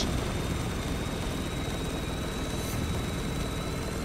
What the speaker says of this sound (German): Wir dürfen Hubschrauber abschießen.